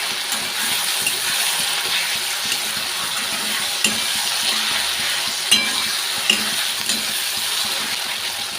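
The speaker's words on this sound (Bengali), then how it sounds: "মশলাটা ভাজা হয়ে গেছে" Ground coriander, cumin and turmeric fry with potatoes in hot oil in a pan, a continuous even sizzle with a few sharp clicks and pops scattered through it, and no voices.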